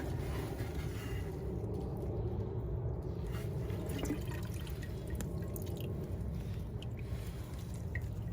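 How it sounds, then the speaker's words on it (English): Water runs and drips steadily as wet packing material for an air layer is squeezed out by hand, a soft, continuous trickle heard close up with no speech. "and then I squeeze the water out."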